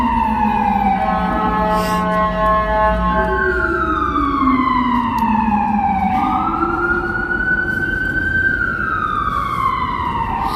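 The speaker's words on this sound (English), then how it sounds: "Essentially, that is a siren." A loud emergency ambulance siren on a New York City street wails continuously, its pitch sweeping up and down in long rising and falling cycles, close and dominant throughout.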